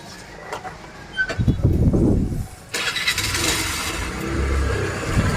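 A small vehicle's engine cranks and catches with a short rising burst, dips, then settles into a steady running rattle nearby, amid outdoor background noise.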